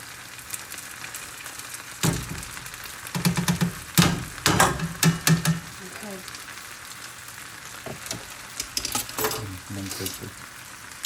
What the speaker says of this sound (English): Now, hopefully you can hear that this is popping.